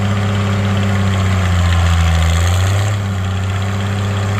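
A heavy tractor engine idling steadily up close, with a deep, throbbing rumble that barely changes over several seconds.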